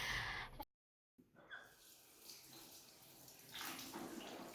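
Tap water runs for a morning face wash in a home bathroom, a steady broadband wash that cuts out briefly near the start, then resumes and swells louder toward the end, close by with no talking.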